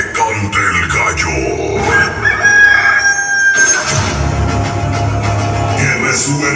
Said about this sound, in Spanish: Que cante el gallo.